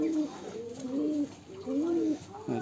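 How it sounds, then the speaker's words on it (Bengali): High flyer pigeons coo close by in a loft, with three or four rounded, rolling calls that rise and fall in a slow repeating rhythm over a quiet background. "খুব সুন্দর পাক, পাকের কবুতর।"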